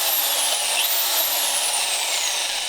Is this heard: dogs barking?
no